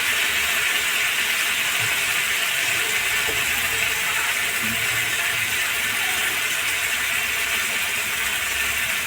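Cauliflower with cashews frying in a pan gives a continuous broad hiss, steady and fairly loud, with faint clinks and nothing spoken.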